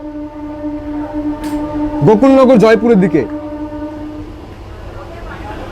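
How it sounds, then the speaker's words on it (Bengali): The Jayrambati–Bankura inaugural special train sounds its horn in one loud, wavering blast of a couple of seconds over a steady running rumble, with someone talking nearby. "জয়রামবাটি বাঁকুড়া উদ্বোধনী ইনোগ্রাল স্পেশাল ট্রেন এখন ছুটে চলেছে"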